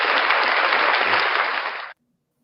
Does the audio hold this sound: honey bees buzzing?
no